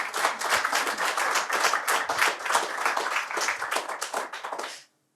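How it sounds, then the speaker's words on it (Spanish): A church congregation claps together for the Lord, dense fast overlapping handclaps filling nearly five seconds at steady loudness before stopping abruptly, no voices over it. "Dale un aplauso al Señor."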